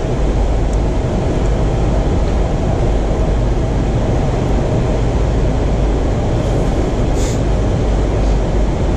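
WMATA Kawasaki 7582 metro train on the Yellow Line rumbles past loudly and steadily, a constant deep roar of wheels and motors with a brief high squeal partway through, no voices.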